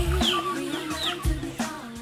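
Chickens on a farm, from month-old chicks up to the oldest hens, clucking close by in short, repeated calls with a few higher squawks, busy and overlapping, with no talking.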